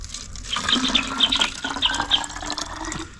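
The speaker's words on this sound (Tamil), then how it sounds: "ஃபஸ்ட்டு இந்த சின்ன வாட்டர் கேனில் தண்ணி வந்து கொஞ்சம் போல் ஊற்றிக்கிடுவோம்." Water poured into a small water can while building an improvised petrol-to-gas stove: a short, close trickle and splash of filling liquid with bubbly, uneven gurgles.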